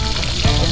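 Food sizzles steadily in a hot pan, a continuous loud crackle and hiss with no voices.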